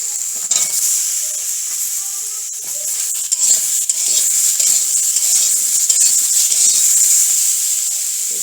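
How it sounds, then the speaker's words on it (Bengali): Eggplant and potatoes fry together in an oil-filled pan for a vegetable curry, giving a steady, close sizzle with occasional stirring scrapes and no talking. "বেগুনটাকে একটু একটু ভেজে দেবো একসাথে।"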